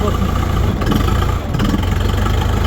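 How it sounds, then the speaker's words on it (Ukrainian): A Kentavr mini tractor engine runs steadily close by, a dense low rumble with slight shifts in load as it drives slowly, with no one talking over it. "Трохи поїдемо, я тут сильно газу давати не буду, бо тут нема де розвернутися."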